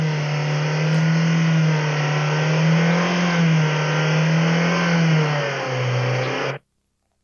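A car engine on a fuel-injected system hums steadily, its pitch rising and falling as engine speed changes, then cuts off abruptly; loud and close, with no voices.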